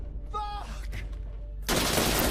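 Gunfire from the tactical shooter video game Insurgency Sandstorm erupts as a loud, sustained burst of rapid shots, following a brief stretch of a faint voice and quieter background.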